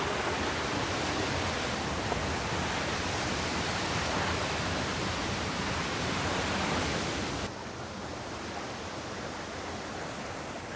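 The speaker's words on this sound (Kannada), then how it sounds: "ಏನು ಸಕ್ಕತ್ತಾಗಿ ಹರ್ಕೊಬತ್ತೆ ಮೇಲಿಂದ ಬೀಳೋ ನೀರು." Abbi Falls pours down from above in a dense, unbroken roar of falling water, loud and close with no voices, dropping slightly in level partway through.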